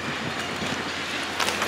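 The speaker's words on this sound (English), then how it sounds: "You can take the train down here." Train noise at the San Juan Capistrano station, a steady broadband rumble and hiss with faint rail clatter, moderately loud and continuous, without talk.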